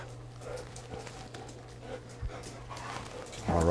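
A shepherd dog pants softly in quick, even breaths at close range, over a steady low hum, followed by a brief louder vocal sound near the end.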